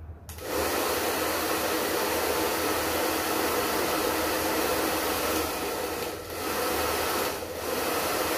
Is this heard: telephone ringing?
no